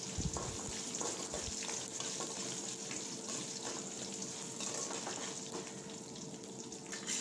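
Dried red chillies with chana dal and garlic frying over a medium flame, a steady close sizzle and crackle that carries on without a break.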